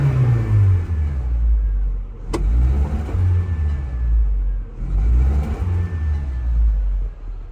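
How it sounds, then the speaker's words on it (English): A 1995 Geo Tracker engine is blipped several times, each rev swelling to a loud, close rumble and falling back to idle, with a sharp click between the first two rises. "I rev it up, it comes up."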